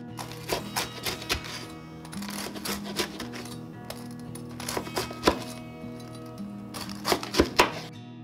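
A knife slices through fried tonkatsu pork cutlet, with a string of irregular crunchy chops and thuds against a board over a low, steady background hum.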